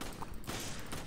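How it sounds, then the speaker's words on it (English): Shotgun fire in a co-op Resident Evil 5 game session, a dense, booming burst of blasts filling a single second with heavy low-end thuds and loud crackle. "Shotgun is good."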